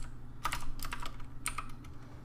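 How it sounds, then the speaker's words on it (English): Computer keyboard typing in short bursts of clicking keystrokes, close and moderately loud over a low steady background hum, with no voices. "Please excuse my typing."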